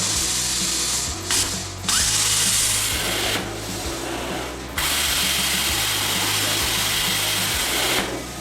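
A Bestarc BTC800DP plasma cutter at 20 amps slices through thin, rusted metal. The hiss is loud and continuous, with a rattling mechanical pulse underneath, and it drops briefly twice early on before carrying on steadily.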